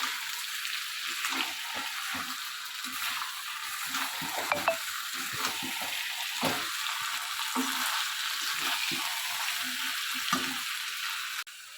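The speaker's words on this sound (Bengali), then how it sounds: "আলুটা ভেজে রেখে এখন দিয়ে ভালো করে নেড়ে চেড়ে দেবো।" Fried potatoes being stirred into chicken curry in a hot pan, with a steady sizzle and fry hiss throughout and repeated soft scraping stirs, fairly close, with no talk.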